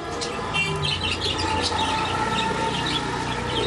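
Prince pigeons fill a pigeon farm with constant chirping and calling, many birds sounding at once over a busy, steady background.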